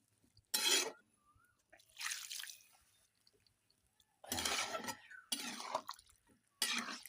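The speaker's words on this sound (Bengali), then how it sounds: "আর একটু জল দেবো।" Water poured in several short splashing bursts into a cooking pot of ivy gourd and potatoes, with quiet pauses between pours, close and moderately loud.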